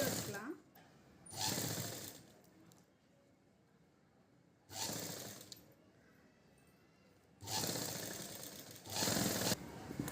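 An electric sewing machine stitches a silk pavadai skirt for a four-year-old girl, running in three separate bursts of steady rapid whirring with quiet pauses between them.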